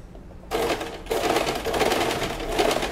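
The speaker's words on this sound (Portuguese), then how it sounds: "Então eu vou, venho aqui, desço a agulha" A domestic sewing machine stitches fabric for a bra with a frilled edge, starting abruptly after a quiet moment, then a close, steady rapid mechanical whir with a short pause before running on.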